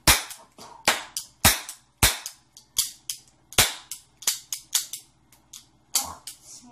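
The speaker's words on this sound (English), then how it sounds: "It's just a plastic revolver with pop rocks or stuff in it" A plastic toy revolver cap gun loaded with caps fires a rapid string of sharp, loud snapping pops, roughly a dozen and a half shots at uneven intervals, close by with no talking.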